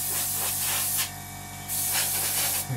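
An airbrush spraying paint onto the wingtip pylons of a plastic model aircraft, an Academy F-16I Sufa kit, producing steady close hissing that drops briefly and then resumes.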